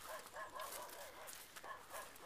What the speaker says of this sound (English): more dogs. It's a freaking dog fest.